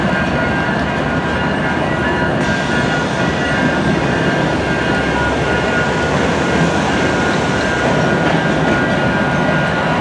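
A train passes in New Westminster, a loud, continuous rumble and rattle of rail cars that holds steady with no breaks and no talk.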